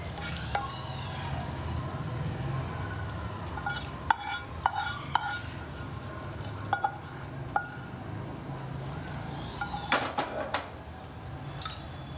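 Roasted ajwain-leaf chutney ingredients are tipped onto freshly grated coconut and stirred, with soft scraping, clinks of a spoon against a dish and scattered knocks over a steady low kitchen hum, no one talking.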